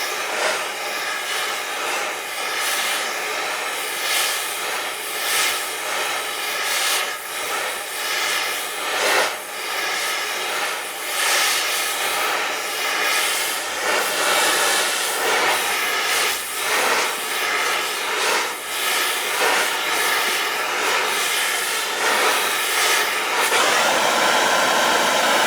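An oxy-fuel torch heats the steel knuckle around a Dana 60 kingpin, a loud, steady roaring hiss that holds throughout with slight flickers in intensity.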